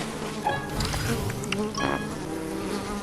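A steady insect buzz like a bee, droning continuously for a few seconds alongside other game-like sounds, fairly close and clear.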